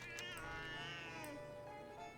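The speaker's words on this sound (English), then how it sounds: "Hey, it's a living cat." A cat in World of Warcraft's Drustvar woods gives a drawn-out, wavering meow, close and fairly quiet.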